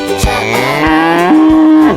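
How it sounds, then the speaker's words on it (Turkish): A cow's moo voiced within a preschool children's song about colorful animals, a long sustained lowing call with a rising tone, loud and close over a musical backing. "Kahverengi bir inek var mı mı mı?"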